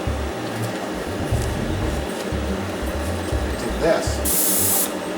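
A spray can hisses steadily as metallic copper paint is sprayed onto an object, a continuous close airy rush with a brief spoken word over it.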